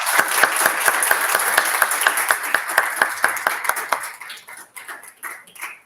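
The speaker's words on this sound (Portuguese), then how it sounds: "gostaria de pedir uma salva de palmas," An audience applauds Professor Beni during a program's third-anniversary special. Crisp, distinct hand claps come at a lively pace, then thin out and grow sparser toward the end, with no voices over them.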